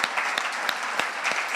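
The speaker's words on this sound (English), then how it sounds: "Can everybody give them another round of applause?" Brief burst of audience applause at a health-themed city finale event, dense clapping from a crowd with a few sharper individual claps standing out, steady and moderately loud.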